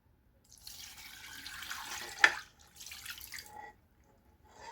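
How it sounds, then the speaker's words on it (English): Canned beef broth pours into a cooking pot, a steady liquid splash and trickle running for about three seconds with a brief louder splash midway, close and alone. "I have 1 can of beef broth. I'm going to pour in right now."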